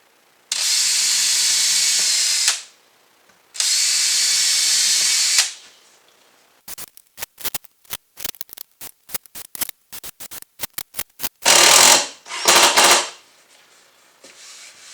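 A power drill drives screws into a small wooden hot tub bench, with two long steady whirring runs, a stretch of scattered clicks and knocks, then two short loud bursts of drilling, close by.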